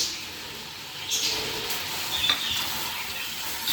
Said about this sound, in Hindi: इसके साथ ही जो है हम इसमें ज़ीरा और जो हल्दी है हम डालेंगे।